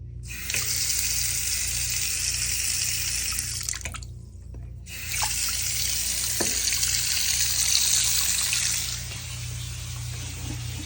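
Water pours steadily from a Moen commercial faucet during a laundromat re-pipe, a close continuous hiss that stops briefly near four seconds and then resumes at full strength.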